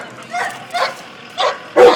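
A search and rescue service dog named Nino gives several sharp barks and yips, close and loud, spaced across two seconds and rising in strength toward the last bark.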